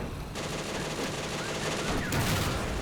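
Gunfire in a Steel Fury tank battle, a dense, sustained burst of shots and rumbling fire that swells near the end, loud and continuous with no talk.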